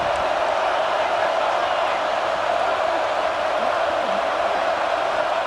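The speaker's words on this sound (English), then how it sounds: "Listen to the crowd energy here in the early going." Stadium crowd noise in the College Football 26 video game, a steady dense roar of a big home crowd that holds constant with no breaks.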